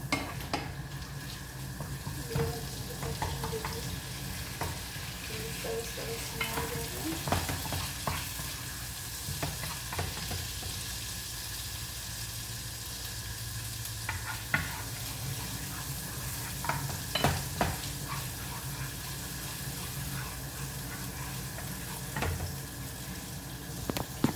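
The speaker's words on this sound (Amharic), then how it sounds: "እንደዚህ ጠበስ እናደርጋለን።" Frying and stirring in a pan while making Saudi-style egg shakshuka: a constant soft sizzle runs throughout, broken by repeated sharp scrapes and clinks of a utensil against the pan, moderately quiet and close.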